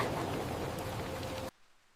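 Rain sound effect, a soft, even hiss of falling rain heard alone for about a second and a half before cutting off abruptly.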